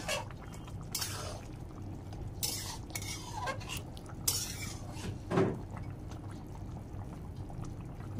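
Fish stirred in a cooking pot, with quiet scraping and clinking of a utensil against the metal, a few brief bursts of clatter and sizzle over a soft steady background.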